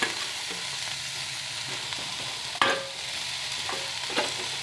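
Onions and radish frying in a little oil in a pan, a steady close sizzle with occasional spoon scrapes and clinks as they are stirred, one sharp metallic knock partway through.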